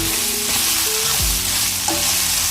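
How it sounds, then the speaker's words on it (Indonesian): Onions are stir-fried in a hot pan for a Chinese-style noodle and vegetable stir-fry, with a loud, dense, continuous sizzle close up and occasional soft knocks and scrapes of the utensil, without any voices. "kita tumis lagi"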